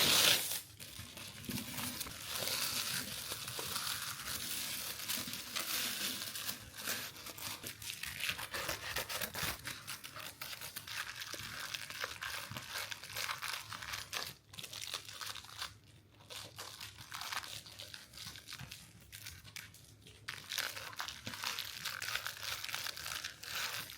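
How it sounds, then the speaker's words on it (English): Honeycomb paper crumpled and crinkled steadily while wrapping a crystal bowl for shipping, a dense continuous rustling crunch close up with brief pauses and no talking. "I like to do the bowl with the honeycomb paper."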